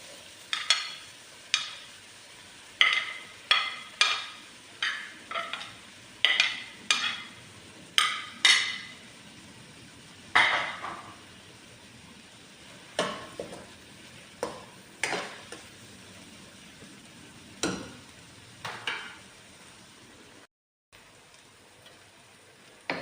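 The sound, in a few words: onion stalks frying in a pan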